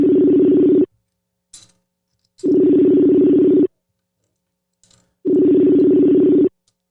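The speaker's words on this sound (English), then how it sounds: "We'll put her on the line if she wants to accept the phone call." A telephone ringback tone on an outgoing call, three long steady rings separated by pauses of silence with faint clicks between them, loud and close.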